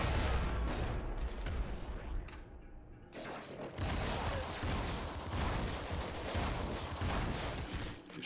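Rapid, dense bursts of fire from a Mini Plasma Minigun in the game Nuclear Throne ring out loud and nearly continuous, with a brief break partway through before the barrage resumes.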